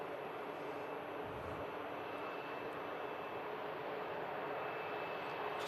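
An aircraft on approach to Manchester Airport in thick fog gives a steady, broad, distant roar that holds at an even level for the whole stretch, with no voices.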